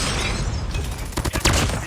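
Loud video game firefight with rapid gunfire and a burst of destruction as an enemy sentry gun is blown up, dense and continuous throughout the short stretch.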